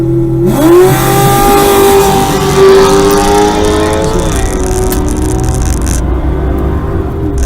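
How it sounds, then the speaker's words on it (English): A small block Chevrolet Camaro drag race car at a test-and-tune event revs loudly, its pitch sweeping up and holding, then settling into a rough, steady idle burble close by. "That is one sweet sounding small block Chevrolet right there"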